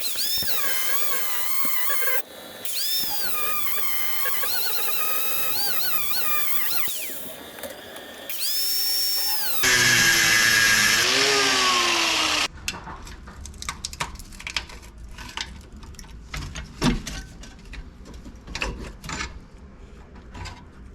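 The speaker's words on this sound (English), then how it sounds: "at least now I should be able to get a good angle on the grinder, give it a couple of slices, and hopefully pop out" An angle grinder cuts into a jammed control arm bolt during a Ford Focus suspension and subframe rebuild, droning loudly with shifting pitch for about twelve seconds before giving way to scattered metallic clanks and scraping work sounds.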